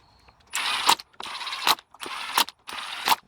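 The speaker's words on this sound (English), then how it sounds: "so we're going to go ahead and snug these down." Bolts on a clutch actuator motor for a 2012-2018 Ford Focus or Fiesta being snugged down with a ratchet, four close bursts of clicking, each ending in a sharp tick.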